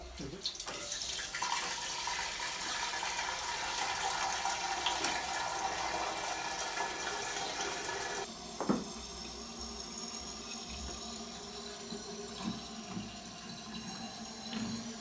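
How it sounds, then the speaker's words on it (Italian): Tap water rushing into a Geberit Sigma concealed toilet cistern, a loud steady hiss of filling that drops in level partway through as the float begins to close, with a brief clunk, continuing more quietly after. "Apriamo il rubinetto dell'acqua."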